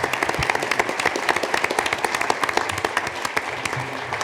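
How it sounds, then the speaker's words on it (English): A live audience at a 2021 Albuquerque mayoral debate applauds the candidates with loud, sustained clapping, many hands forming a dense, even roar from start to finish. "I'd like to ask the audience to join in some applause for the candidates."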